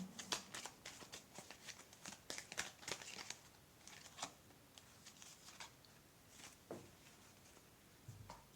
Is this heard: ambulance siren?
no